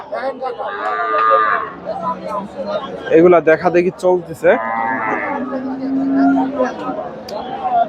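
Cows low in long, drawn-out moos at the Chandaikona cattle market, two prominent calls up close with people talking between and over them.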